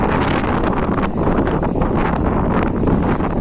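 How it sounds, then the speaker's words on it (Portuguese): Strong wind buffeting the microphone outdoors in Mindelo, Cabo Verde, a loud continuous rumbling roar that covers everything for the whole stretch. "Ai, que vento."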